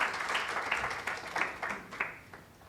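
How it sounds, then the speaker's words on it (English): Scattered applause from an audience at a trade expo event greets the keynote speaker, a moderate spread of hand claps fading gradually over a few seconds, heard from within the hall without talk. "Please, a round of applause."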